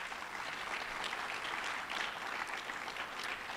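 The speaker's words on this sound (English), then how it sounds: "One more round of applause." Audience applause at a high school athletic hall of fame ceremony, a steady continuous wash of many hands clapping indoors, moderately loud and unbroken for a few seconds with no talk over it.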